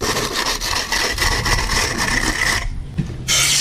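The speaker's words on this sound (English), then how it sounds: "Then you screed it." A screed is dragged across freshly placed material to strike off the excess while a French drain is installed, giving a loud, continuous coarse scraping with a short pause before it resumes.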